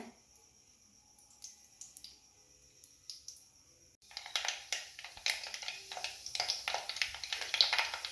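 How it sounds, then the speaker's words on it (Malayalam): Mustard seeds splutter in hot coconut oil, quiet faint ticks at first, then from about halfway a burst of rapid, sharp crackling pops that keeps going close up. "കടുക് നല്ലോണം പൊട്ടി വരട്ടെ"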